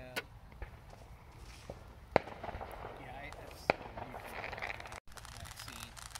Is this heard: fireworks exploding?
yes